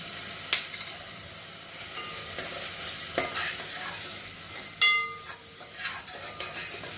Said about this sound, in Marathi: हे तेल सुटेपर्यंत छान परतून घ्यायचं आहे.